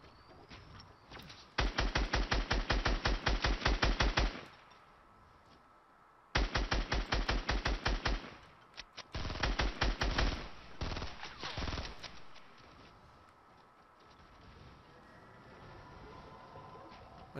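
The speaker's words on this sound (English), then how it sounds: "Shot for the sniper." Rapid bursts of automatic gunfire in a video game, aimed at a sniper on high ground: two long dense volleys, then shorter broken strings of shots, fading to low ambient game noise.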